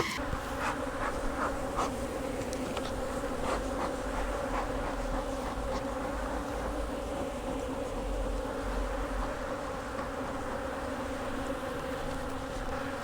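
Honey bees buzzing around a hive with a reduced entrance during robbing, a dense continuous drone of many bees close by, steady and loud, with individual bees zipping past.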